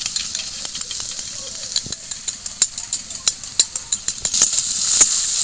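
Garlic and onion frying in a pan for a Bengali rohu fish curry, a steady sizzle with a run of sharp spoon scrapes and clinks as the pan is stirred, close and fairly loud.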